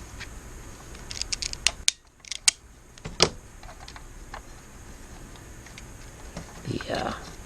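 Crusty old power wires are snipped off a 3D-printed Lionel model train trestle, giving a few sharp, close cutter clicks over a quiet hiss.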